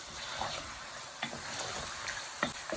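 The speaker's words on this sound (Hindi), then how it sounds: "जिस ऑयल में हमने आलू रोस्ट किए उसी में हमने लैम डाल लेना है" Lamb pieces fry in the oil left from roasting potatoes for aloo gosht, a faint continuous sizzle with a few soft stirring knocks and scrapes, and no voices.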